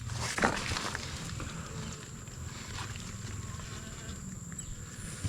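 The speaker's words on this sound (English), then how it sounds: "Yeah man, you can see bees them at work." Bees work on pumpkin flowers on an off-grid farm, giving a faint, steady insect buzz over outdoor background noise with no talk.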